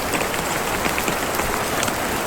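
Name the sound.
rain falling on a tent while camping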